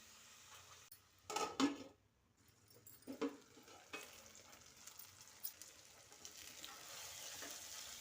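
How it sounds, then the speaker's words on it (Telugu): Tomato, onion and brinjal frying in a covered pan, a faint soft sizzle with a few louder clattering stirs and lid bumps near the start. "టమాటా, ఉల్లిపాయ, వంకాయ అన్నీ వేగిపోయాయండి."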